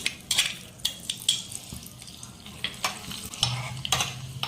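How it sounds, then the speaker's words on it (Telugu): Tempering spices with dried red chillies and green chillies hiss in hot oil for raw banana chutney, a steady sizzle broken by sharp crackling pops and a few stirring scrapes, close up, with no talking. "పోపు దినుసులు వేసుకుంటున్నాను"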